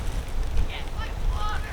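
Strong wind buffets the microphone outdoors on a very windy day, a low, gusty rumble throughout the short stretch with a person speaking over it.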